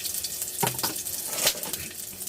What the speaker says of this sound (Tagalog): So ilalagay na natin to, sibuyas bawang.